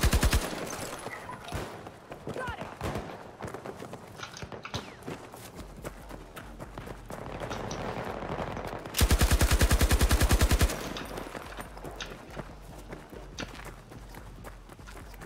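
An RPT-31 light machine gun fires in Battlefield 2042 amid scattered battlefield shots, with one loud sustained automatic burst lasting about two seconds in the middle of the action.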